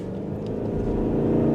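A 2025 Mazda CX-50 Hybrid's 2.5 engine drones with a steady low growl from inside the cabin while driving, rising slightly in volume through the short stretch.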